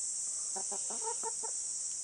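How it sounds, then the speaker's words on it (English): A hen on a natural farm in Kamakura, Japan gives a quick run of about five soft clucks in the middle, with a steady background hiss and no talking. "Chickens have a very wide range of vocal."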